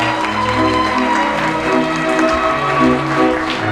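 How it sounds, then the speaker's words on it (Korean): Wedding guests in a hall clap as the two mothers bow to each other, steady applause under tonal background music that continues throughout. "양가 어머님 맞절 인사하십시오. 큰 박수 부탁드리겠습니다"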